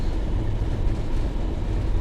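Class 31 diesel locomotive hauling wagons on a Blackpool branch all-stop service, accelerating away: a steady, close, continuous low rumble and drone from the train throughout, with no talk.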